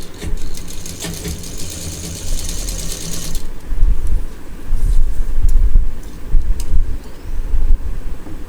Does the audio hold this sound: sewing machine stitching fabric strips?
yes